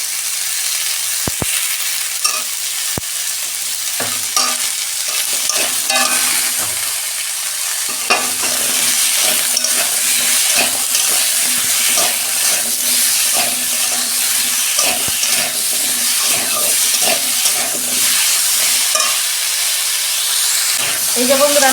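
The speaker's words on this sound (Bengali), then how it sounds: "সবজিগুলো আমি 2 মিনিট একটু ভেজে নেব।" Mixed vegetables sizzle loudly in a pan while being stirred and tossed for a fish recipe, a constant close hiss broken by repeated scraping and clacking strokes of a spatula.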